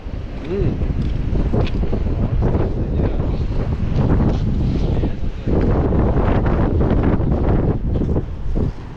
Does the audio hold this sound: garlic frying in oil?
no